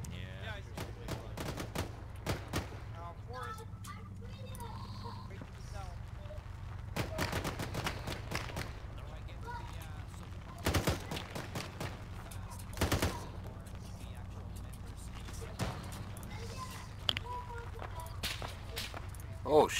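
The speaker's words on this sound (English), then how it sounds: "Okay, them shots was from the southeast." Arma 3 gunshots, sharp cracks scattered unevenly over a low steady engine-like hum, some close and loud, others fainter, with voices talking between them.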